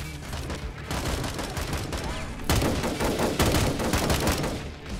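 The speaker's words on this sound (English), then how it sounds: "Taking some shots from the hills." Sustained battlefield gunfire in AMOW Battlegrounds, rifle shots coming from the hills as red army men try to cross a bridge, a thick crackling fusillade that swells louder halfway through, with no talk over it.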